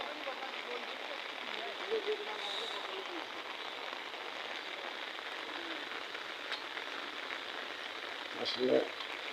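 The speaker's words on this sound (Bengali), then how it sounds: "এই বৃষ্টির এত জোরে বৃষ্টি হয়েছে" Heavy rain falls in a dense, even hiss, steady and fairly soft throughout, with a brief louder patter near the end.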